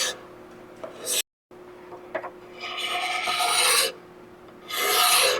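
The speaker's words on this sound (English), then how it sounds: "gonna get rid of this epoxy coating and make this hopefully a good looking axe" Epoxy coating being rasped and sanded off a wooden axe handle. The scraping comes in several bursts: short strokes first, then a brief silence, then longer sustained rubbing passes, fairly close and alone.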